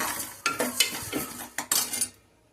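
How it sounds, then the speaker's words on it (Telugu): A utensil stirs moong dal dry-roasting in a pan, making a few close clinks and scrapes against the metal in short bursts with a faint sizzle underneath, then falling quiet. "ఈ పెసరపప్పుని మధ్య మధ్యలో తిప్పుతూ ఉండాలి, లేకపోతే ఊరికే మాడిపోతాయి"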